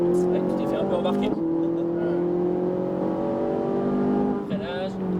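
Ferrari 458 Italia engine droning at steady high revs on the Ferté Gaucher race circuit, loud and close from the cockpit, with a brief lift around mid-clip and a gear change near the end while a driving instructor talks over it.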